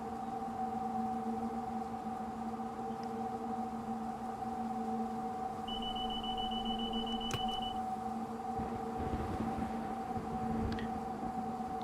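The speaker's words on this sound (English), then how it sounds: "Because it's a more penetrating noise, whereas this is a drone." Steady electric hum from a Class 90 locomotive running between Birmingham and Crewe, a constant layered drone heard from inside, even and unbroken, with a brief high whine partway through and no talk.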